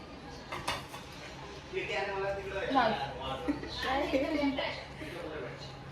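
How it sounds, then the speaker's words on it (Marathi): Puffed rice bhel being stirred in a bowl at home: light clinks and scrapes of a spoon against the dish, close and intermittent, mostly under people talking. "माऊनी मस्त भेळ बनवली आहे एकदम मस्त मिक्स मिक्स मिक्स मिक्स"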